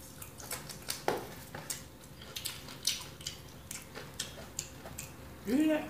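Close, crisp crunching and chewing of Popeyes fried chicken repeats in an irregular rhythm, quiet overall, with a brief voice at the very end.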